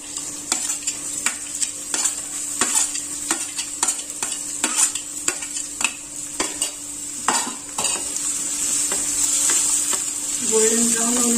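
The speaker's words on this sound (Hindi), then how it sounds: "गोल्डन ब्राउन होने तक प्याज को भून लेते हैं।" Chopped onions frying in a pan for a chole masala, a steady loud sizzle broken by repeated sharp scrapes and taps of a stirring utensil, with the sizzle swelling near the end.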